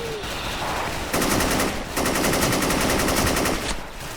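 An AN94 rifle fires in a first-person shooter game, several rapid bursts of loud mechanical gunfire that start and stop sharply and run close and dominant throughout.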